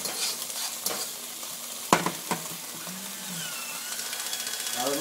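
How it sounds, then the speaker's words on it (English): Thai curry paste stirred and fried in a pan, a steady sizzle with scraping stirs and a few sharp utensil knocks, close up with no talk. "get our curry paste really going here. Don't want to burn it, so just going to keep it moving a little."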